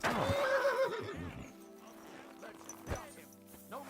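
A horse in a video game lets out a loud, close neigh that trails off, followed by softer hoof clops and a quieter snort against a faint hum.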